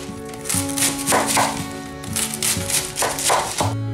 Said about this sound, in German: Wir nehmen jetzt einfach ein Messer und schneiden den jetzt runter hier.